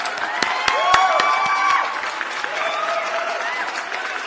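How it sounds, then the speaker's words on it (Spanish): Sustained audience applause fills the space for several seconds, with a few sharp, close claps standing out early and a faint voice underneath as it thins toward the end. "recibiéndolos con un fuerte aplauso a todos"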